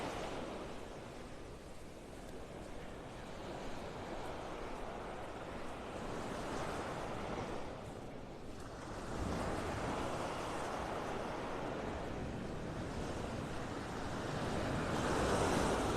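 Surf rolling onto Vanderbilt Beach in Naples, Florida, a continuous broad wash of breaking waves with swells of louder surge, mixed with some wind buffeting, and no voices.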